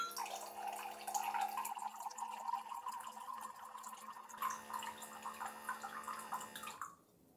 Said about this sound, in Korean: 전원 버튼을 짧게 두 번 연속으로 눌러주면 세척 모드가 작동이 돼서 15초간 연속 토출이 됩니다